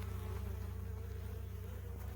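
Honey bees buzz on a hive frame in a steady, close, continuous drone with no talking.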